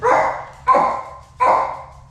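A farm dog barks three times in quick succession, loud and close, each bark sharp with a short tail, alone with no talk.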